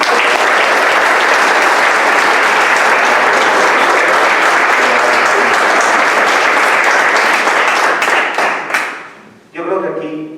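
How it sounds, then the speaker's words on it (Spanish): An audience at a talk gives Mauricio a loud, sustained round of applause, dense clapping that thins out and stops near the end, after which a voice begins speaking. "Les voy a pedir por favor que le demos un aplauso grande a Mauricio."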